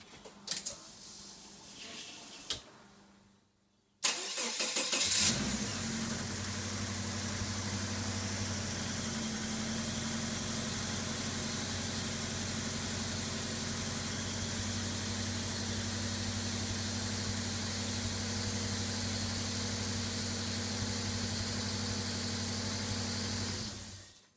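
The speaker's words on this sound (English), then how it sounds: "Now let's crank it over and try it out." Subaru EA82T turbo engine with Megasquirt MS3x management, a few cranking pulses, then it catches and settles into a steady, even idle that holds for about twenty seconds, close up.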